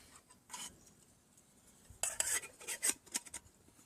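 Metal camping cook-kit pots and utensils clinking and scraping outdoors, a faint rub early on, then a cluster of sharp bright clanks close by, with no voices.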